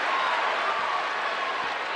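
Arena crowd at a 2023 NCAA Tournament second-round basketball game, Virginia Tech against South Dakota State, cheering in a steady, loud, continuous roar that fills the space without breaks, with no distinct voices standing out.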